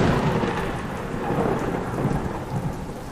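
Heavy rain pours down alongside rolling thunder in a village storm scene, a loud continuous wash of drops with deep rumbles swelling and fading underneath, no voices present.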